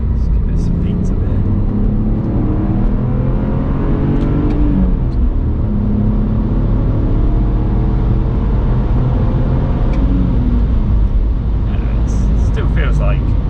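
A BMW E46 330Ci Clubsport engine revs and accelerates with a steady, loud drone that swells and falls through the gears, with voices talking over it inside the car.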